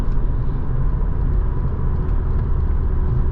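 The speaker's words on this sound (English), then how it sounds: "can hear that supercharger spooling as we go higher into the rev range." A 2005 Mercedes-Benz C230 Kompressor W203 drives with its supercharged engine pulling at high revs, a loud, steady droning rumble heard from inside the car without any talk.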